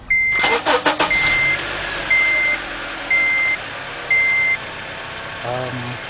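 A 2007 Acura TSX 2.4's warning chime beeps five times at an even pace after a few clicks, then the engine cranks and turns over near the end; the car has a P0133 fault and loses power while driving.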